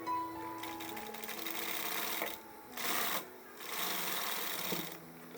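A sewing machine runs stitching a seam on a blouse, its needle rattling in three or four close, steady bursts separated by brief pauses, with no voices.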